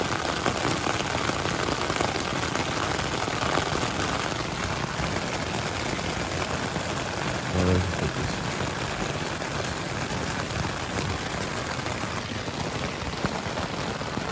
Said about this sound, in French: Pourquoi il pleut tout le temps ?